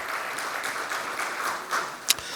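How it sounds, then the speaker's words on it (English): An audience at an investing event applauds a sponsor, Wealth Company, in a short, light patter of clapping, with a couple of sharper single claps near the end. "So can we have a huge round of applause for Wealth Company as well?"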